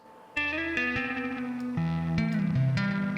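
An electric guitar through the Archetype: Abasi plugin plays a short descending line with rapid sixteenth-note delay repeats trailing each note, giving a shimmering, stuttered texture.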